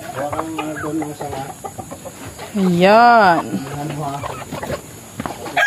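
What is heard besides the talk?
chickens clucking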